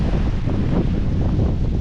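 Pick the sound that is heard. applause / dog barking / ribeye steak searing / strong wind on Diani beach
strong wind on Diani beach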